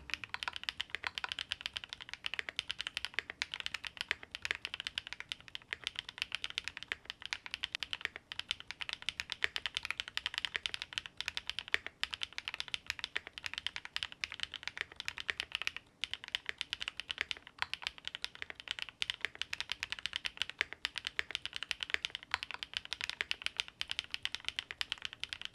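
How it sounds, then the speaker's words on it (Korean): Fast, steady typing on a Geometry70 mechanical keyboard with a stiffened, fully packed plate, giving crisp, dense keystroke clicks that run continuously and close up for the whole stretch, with no talking. "지금은 이렇게 꽉꽉 채워가지고 타건 테스트 해보도록 하겠습니다."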